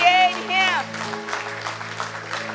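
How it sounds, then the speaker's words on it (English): A church congregation claps in a burst of praise during a Sunday morning service. Steady applause follows a sung or spoken phrase and runs under an organ or keyboard drone at moderate loudness. "Would you give him a hand clap of praise?"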